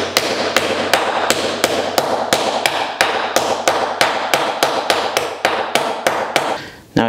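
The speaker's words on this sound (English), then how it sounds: "And some of this hammering is also work hardening it" Fine silver is hammered into a dome on a small dapping base with rapid, evenly spaced metallic strikes, about two or three per second, loud and close, continuing steadily for around seven seconds with no talk.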